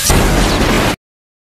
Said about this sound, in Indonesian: Mereka berdua pun dibuat terkejut akibat ledakan yang dihasilkan tameng cakra